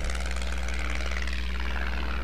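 A homebuilt Midget Mustang propeller airplane drones steadily in flight, its engine and prop a loud continuous buzz with a slowly shifting pitch, heard from on board.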